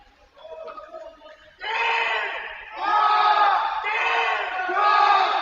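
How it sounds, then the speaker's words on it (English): A crowd at a college tennis match cheers and yells in rising bursts, several loud whooping waves of voices one after another, after a quieter stretch of distant sound. "There, the crowd's starting to get involved."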